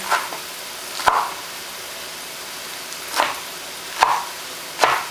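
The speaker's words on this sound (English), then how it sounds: "just rough cut the spinach" Knife rough-cutting fresh spinach on a board for a chicken and pasta dinner: a few sharp, separate chops spaced irregularly over a soft background hiss, close and fairly quiet.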